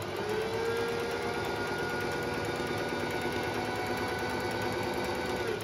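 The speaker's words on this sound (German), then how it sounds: "Die Nähmaschine ist auch sehr leise" A Smart by Pfaff 100s sewing machine running a straight stitch, a steady, fairly quiet mechanical whir and rapid needle chatter holding an even pace throughout with no talking.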